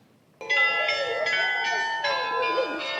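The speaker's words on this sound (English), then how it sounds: "you can see all the bells up the top there" Church bells peal from a bell tower in the centre of Delft, a sustained, overlapping ringing of several bells heard clearly and continuously, loud and fairly near, after a brief quiet start.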